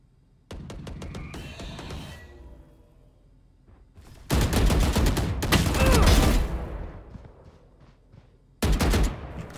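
Gunfire in the tactical shooter Valorant comes in three loud, close automatic bursts: a short one with a few single shots, a long sustained spray in the middle, and a final burst at the end. Quieter gaps fall between them and no one speaks.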